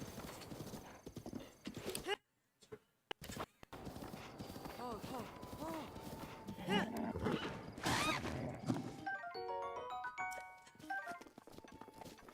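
A horse trots with rhythmic clip-clopping hooves in the video game Zelda: Breath of the Wild, steady and close, with a whinny, game chimes and someone talking over it.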